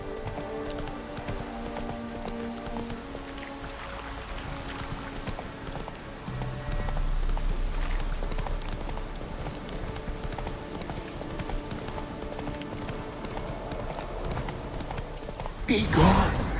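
Roach the horse gallops in The Witcher 3, hooves clip-clopping in a steady, fast rhythm under game music, with a brief louder burst near the end.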